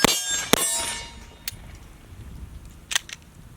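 Pistol shots striking steel targets, a few sharp ringing clangs with bright metallic decay, the first two close together and the later ones spaced out, with no talking.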